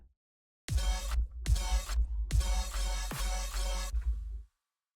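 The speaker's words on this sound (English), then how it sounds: "And here it sounds like this." Processed bass for a riddim-style hybrid trap track hits in four loud, distorted, gritty stabs with short gaps between them, heavy sub-bass beneath, then stops abruptly into silence.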